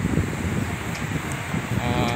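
Afternoon wind buffets across an open coastal fishing spot, a steady rumbling gust on the microphone that fills the moment without break, loud and close.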